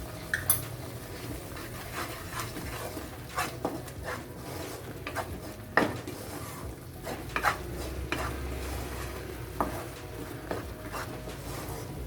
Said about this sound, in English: So just saute this for a couple of minutes so that the raw smell goes away.